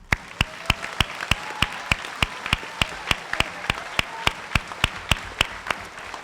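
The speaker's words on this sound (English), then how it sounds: "One more round of applause." Students at a school team recognition night receive one more round of applause from the room, a steady rhythmic clapping with sharp regular beats carrying through the whole stretch, fairly close and even in volume.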